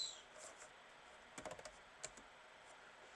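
Keys clatter on a computer keyboard in a short burst of quiet typing, a quick cluster of clicks followed by a few isolated taps with pauses between.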